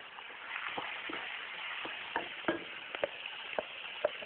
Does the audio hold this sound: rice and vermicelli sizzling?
yes